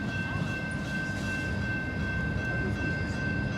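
A long freight train hauling grain rolls past at night in Plymouth, Michigan, a continuous loud rumble with a steady high tone riding over it and no breaks.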